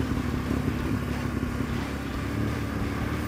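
A vehicle engine drones steadily in second or third gear as it climbs a slick, very muddy uphill track, a continuous close rumble with no clear revving peaks.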